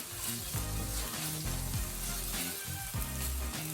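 Onion curry base for lamb karahi sizzles in a pan while being stirred, a steady broadband frying hiss with a few low scraping knocks from the spoon, close and continuous.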